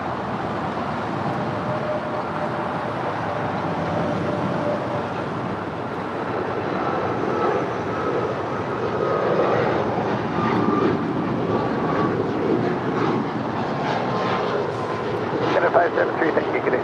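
An Air Canada Boeing 737 MAX 8 jet departing LAX, a broad distant engine roar that swells slowly over seventeen seconds, with people talking over it.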